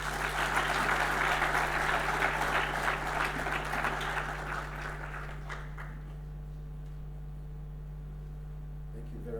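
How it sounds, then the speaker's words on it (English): Audience applause at the official opening of a national business forum, a steady, fairly loud wash of clapping for several seconds that fades to a quieter room tone with a constant electrical hum underneath. "Another round of applause for our guest of honor."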